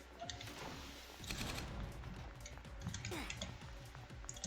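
Bursts of M249 machine gun fire in an SCP roleplay video game, rattling in dense, overlapping volleys with sharp clicks through the middle and end, loud and close.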